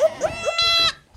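Newborn baby goat kids bleat in quick succession: several short, high, wavering cries close by, the last one longer and louder before it fades.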